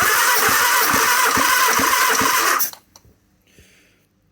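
An engine cranks over on the starter during a compression test, a rhythmic chugging of a few quick pulses that runs about two and a half seconds before it cuts off, leaving faint clicks.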